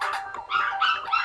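Dogs barking in the background of the Danganronpa Trigger Happy Havoc game, a few quick high yips and barks in short bursts, fairly close and clear.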